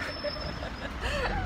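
A steady low rumble and broadband road noise fill the inside of a moving bus, with a faint voice briefly audible.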